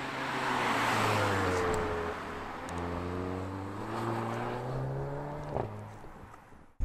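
Engine of a 2017 Audi TT Roadster rising in pitch as it accelerates through gears, with clear harmonic sweeps and a brief shift blip, steady and fairly close with no talking.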